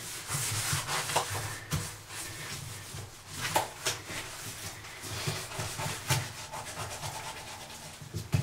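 Hand scrubbing of a bathtub with some rust stains, a steady rough rubbing and scouring that comes in repeated strokes of uneven rhythm, close up with no talking.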